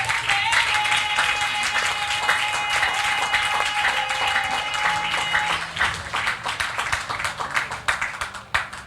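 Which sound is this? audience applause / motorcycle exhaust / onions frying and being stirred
audience applause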